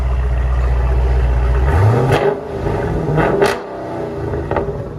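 A Dodge Challenger Scat Pack's 6.4L HEMI V8 revs hard, its loud deep exhaust roar rising and falling a few times before settling into a rough idle.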